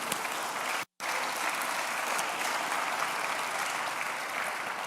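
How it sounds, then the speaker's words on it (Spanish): A church congregation applauds during a sermon, a thick continuous roar of clapping broken by one brief dropout near the start, then steady and full to the end. "Dale el aplauso al Señor."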